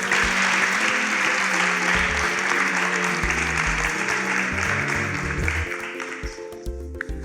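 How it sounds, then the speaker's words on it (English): Audience applause for a contestant on a competition show, full and continuous clapping over background music that thins out and fades near the end. "A round of applause for Joseph."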